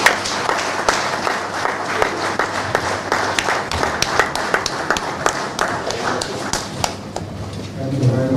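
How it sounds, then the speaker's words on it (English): A crowd at an officers' mess commissioning ceremony applauds with steady, scattered clapping that keeps going for several seconds, with a low murmur of voices underneath. "another round of applause for His Excellency"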